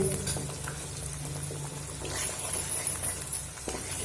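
Beaten, salted egg hits a hot pan with onion and chili, giving a loud, continuous bubbling sizzle close up that swells and eases slightly over a few seconds.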